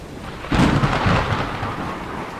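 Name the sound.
thunderclap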